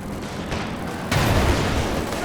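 In Company of Heroes 2, a gun fires at the ground with a muffled low boom and a sharper blast a second later, set against constant battlefield rumble.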